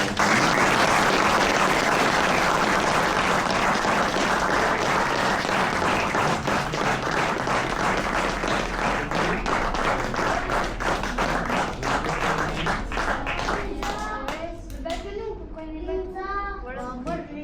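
Sustained applause from a theatre audience, dense at first and gradually thinning into scattered claps, with voices emerging as it fades.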